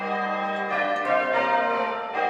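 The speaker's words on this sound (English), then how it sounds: "The sort of bell ringing you've seen today was initiated in about 1600." Church bells rung in the English change-ringing style on Armistice Day, a loud sustained ringing tone with overlapping strikes that hum steadily throughout, heard close and alone.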